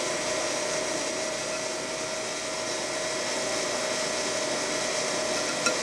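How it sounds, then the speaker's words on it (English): Chocolate mixture being whisked, most likely with an electric mixer, a steady, even motor whir that runs alone and close throughout without pause. "And whisk that together for 2 minutes."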